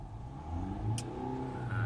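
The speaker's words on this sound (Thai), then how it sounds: "เห็นไหมครับเร่งเครื่องได้ครับ" A Mercedes-Benz C-Class W205 engine revs up steadily, a low droning rise in pitch, fairly quiet and continuous.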